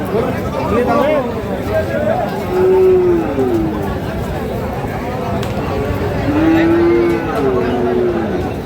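A large bull moos twice at a cattle market in Moulvibazar, Bangladesh, long drawn-out lows spaced a few seconds apart, amid a busy crowd murmuring in the background.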